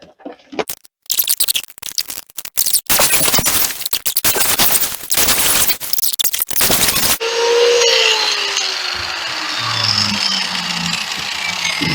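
An angle grinder with a grinding wheel working on a motorhome grill guard: loud, harsh, stuttering grinding bursts, then a steady high whirring spin-down that rings on alone.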